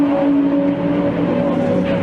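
Second-generation Dodge Viper race car during the Spa 24 Hours endurance race, its engine droning steadily and loudly with a sustained, slightly wavering tone and no audible voices.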